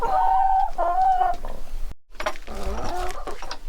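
Backyard homestead chickens clucking nearby, with repeated bright clucks and calls in two bursts separated by a brief silent break.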